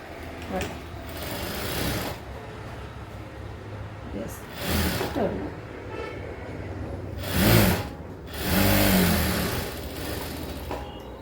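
A sewing machine stitches the crotch seam of a straight-cut pant in several separate bursts of rapid mechanical whirring, each a second or two long, with quieter pauses between them.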